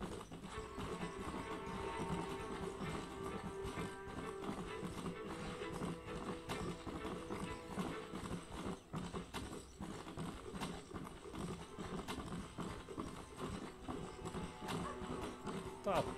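Horse galloping in the PS3 video game Red Dead Redemption, rapid rhythmic clip-clop hoofbeats running steadily under game music and ambience, with someone talking over it.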